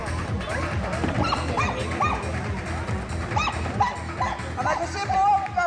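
Dogs bark and yip repeatedly at an outdoor agility demonstration, sharp barks at moderate distance mixed with crowd murmur and someone talking over them.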